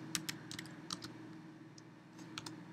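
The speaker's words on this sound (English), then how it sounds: "And you could type in Pixlr," Quiet, irregular key clicks from typing on a computer keyboard, a scattered run of light taps over a low steady background hum.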